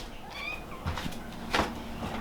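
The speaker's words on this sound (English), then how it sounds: "Oh, we finally got a meow out of you." A cat gives a single short meow, fairly faint and nearby, followed by a few soft thumps and rustles in a quiet room.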